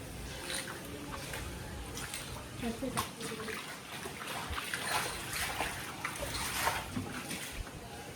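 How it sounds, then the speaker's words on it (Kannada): Water splashes and trickles steadily across a floor being washed at home on the Ugadi festival day, with broadband splattering throughout and occasional louder surges, fairly close and continuous. "ಇವತ್ತು ನೀರು ಹಾಕಿ ನೀರು ಬಿಡ್ತಾಯಿದ್ದೀವಿ ಅಷ್ಟೇ"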